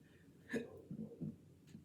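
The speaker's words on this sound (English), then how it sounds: "excuse me, I got a burp" A man's single soft burp, close and fairly quiet, followed by a couple of faint throaty breaths and exhales with no talk.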